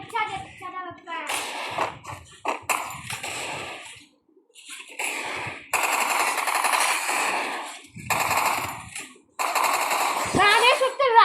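Gunfire in the Free Fire video game during a multiplayer match: repeated loud bursts of rapid automatic fire over several seconds, separated by short pauses, with voices talking at times.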